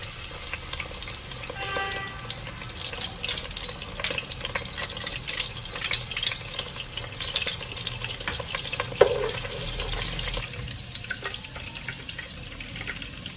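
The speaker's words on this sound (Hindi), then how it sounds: "सबसे पहले हम बर्तन में लहसुन और अदरक का पेस्ट डालकर भुनेंगे।" Garlic and ginger paste sizzles and crackles steadily as it fries in a pot for kadhi pakora, with occasional scraping and stirring clinks, close and continuous throughout.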